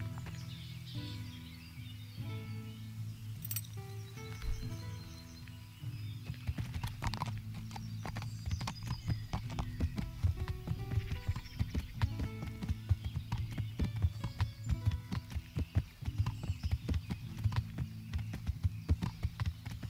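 Horse hooves clip-clopping as a horse walks in a video game, a steady rhythmic run of hoof knocks that begins after a quieter stretch of music-like tones and keeps going near and clear, with faint birdsong.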